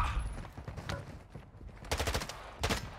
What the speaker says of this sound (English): if you hear gunshots, that's bots shooting at me.